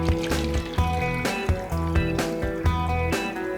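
Water poured into a homemade Halloween snow globe jar mixed with vegetable glycerin, a close gurgling trickle with rhythmic glugs and a background musical beat, no talk.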